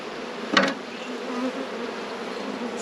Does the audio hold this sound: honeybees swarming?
yes